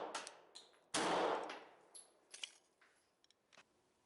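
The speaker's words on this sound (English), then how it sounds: "You can hear the distinctive click of the trigger reset" A Glock 17 pistol gives a crisp metallic trigger-reset click, followed by a few fainter small clicks and taps, close and alone with no voices.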